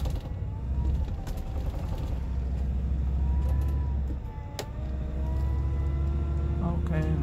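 An 8.1 Vortec truck pulls off a road shoulder, its steady low engine rumble running throughout beneath creaks and rattles from the cab and chassis.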